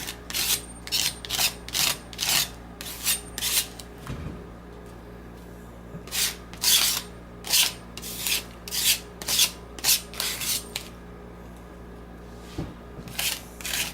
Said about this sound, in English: I'm just going to scrape it on here with this knife